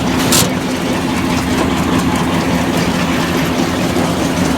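An IH 1486 tractor runs a New Holland 354 grinder-mixer grinding ear corn into cattle feed, a steady loud low engine drone with continuous mechanical rumble and a brief clank near the start.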